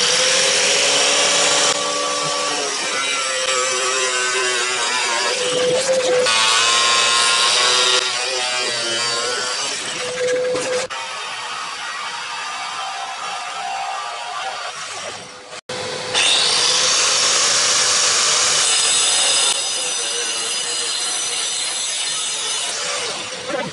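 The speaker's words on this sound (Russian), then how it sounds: "Сейчас при помощи болгарки и пылесоса постараемся пройти." Angle grinder fitted with a stone disc cutting through a windowsill while a vacuum cleaner runs alongside: loud, sustained high grinding in several long passes, dropping in pitch under load, with a brief cutoff and restart near the end.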